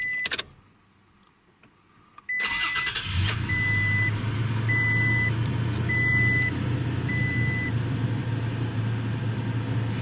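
A 2018 Toyota Tacoma V6 SR5 pickup truck cranks briefly and catches, then settles into a steady, fairly loud idle with a constant low hum and faint electronic chimes, after a quiet stretch and a few clicks.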